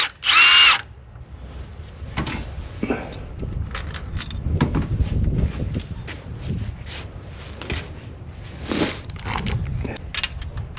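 A power tool whirs in short bursts while bolts come out during water pump work on a 5.7L Hemi Dodge Ram 2500, a sharp high whine at first and then softer clanks, rattles and shuffling nearby.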